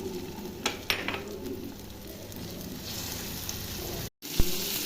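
Kalbosh fish roe frying in oil in a pan, a steady bright sizzle throughout with a few light clicks of a utensil and a brief cut near the end.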